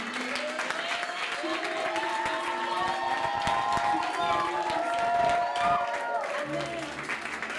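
A church congregation cheers and applauds together, with scattered shouts and claps over music and voices throughout the clip.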